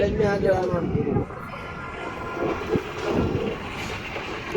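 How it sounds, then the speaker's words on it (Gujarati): A passenger train pulls out of Tithal station with a low rumbling roll and scattered wheel clacks over the rails, while a voice talks over the noise. "તિથલથી ટ્રેન નીકળી ગઈ છે"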